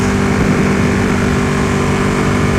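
Ducati Panigale motorcycle cruising at highway speed, around 130, with a loud, steady engine drone blended with heavy wind roar, continuous and unbroken, with no one talking.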